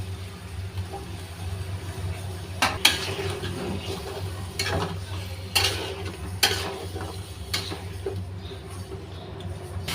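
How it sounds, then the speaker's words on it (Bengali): Raw banana and potato pieces are sautéed with spices in a pan, with occasional sharp spatula knocks and scrapes over a low hum and a soft sizzle. "এখন এই মশলা আর আলুর সাথে কলাটা সুন্দরভাবে আবার 2 মিনিট কষিয়ে নেব।"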